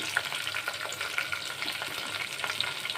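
Onions frying in oil for a dry mutton curry crackle with a steady close sizzle, broken by small popping spits and faint stirring.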